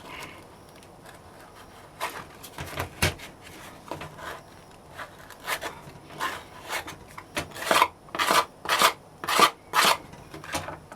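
Tool scraping across packed casting sand to flatten it for a silver coin mould, a series of rough rasping strokes that start sparse and quiet, then grow louder and more rhythmic toward the end.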